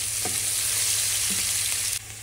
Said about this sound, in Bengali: এখন একটু সুন্দর মতো ভাজা ভাজা হোক আগে।